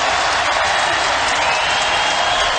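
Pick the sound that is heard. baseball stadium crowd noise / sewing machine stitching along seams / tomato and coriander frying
baseball stadium crowd noise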